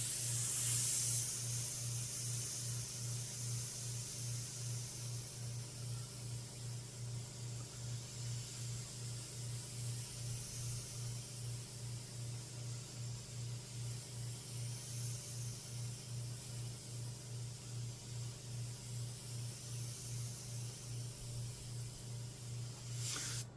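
Continuous soft hiss of a Takumi airbrush with a 0.18 mm needle and nozzle spraying, a steady airy rush running for over twenty seconds with a low hum beneath and a small bump at the end.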